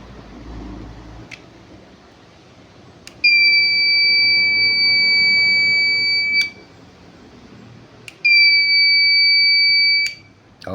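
Two long, steady electronic beeps from an Arduino NRF24 transmitter buzzer signal a wiring or module fault, each lasting about three seconds, separated by a short pause, loud and clear over faint background noise.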